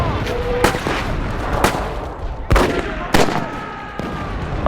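Artillery and mortar shells exploding in a World War II battle, several sharp loud blasts at irregular intervals over a rumbling background of combat.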